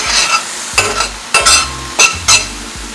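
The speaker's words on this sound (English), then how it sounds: "Cooking up some more veggies for dinner." Red onions and baby bella mushrooms sizzle and fry in a pan, with several loud stirring scrapes at irregular intervals over a steady hiss; no talking.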